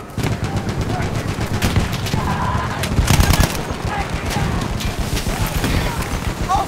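Machine gun fire in the Battlefield 1 video game, dense rapid bursts of gunshots continuing throughout with a louder flurry midway, amid battle noise and shouted voices.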